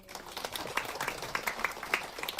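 Scattered audience clapping at a Buddhist Guanyin dharma service at a temple, a light, uneven patter of hands that stays fairly soft and ends without any voices over it.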